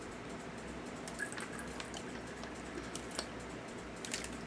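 Water trickling through a Sawyer Mini water filter into a jar makes faint, close drips and a soft, steady patter with small irregular ticks, and no one speaks.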